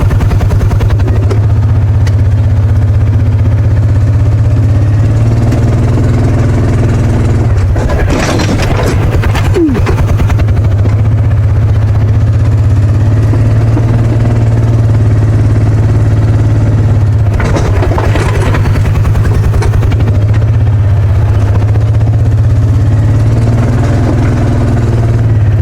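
A vehicle engine labouring in four-wheel drive low while working the top of a hill, a loud steady droning hum with a rattling, revving surge near the middle and another toward the end.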